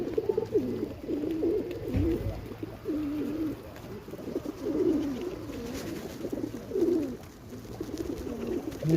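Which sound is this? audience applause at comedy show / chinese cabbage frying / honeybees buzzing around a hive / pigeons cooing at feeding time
pigeons cooing at feeding time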